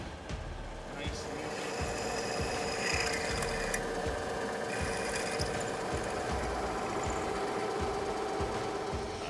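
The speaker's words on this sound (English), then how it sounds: "this will just go straight to where I need it to cut holes" A programmed machine cutting holes in a plate in an advanced manufacturing shop gives a loud, continuous mechanical whine and rapid rhythmic chatter, with a tonal hum throughout and voices faintly audible underneath.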